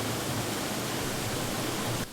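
Close, steady hiss of water running through the small stream and tunnel of a mini golf course, constant and unbroken before cutting off abruptly at the end.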